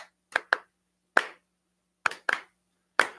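A single pair of hands claps in isolated, sharp, close strikes, seven of them in loose irregular groupings with silent gaps between, dry and unaccompanied by any voice.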